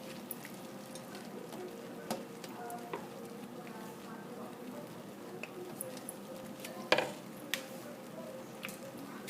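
Milk and flour being stirred into corn frying in a pan, a steady soft sizzle with scattered spoon scrapes and clinks against the pan, one sharper knock partway through.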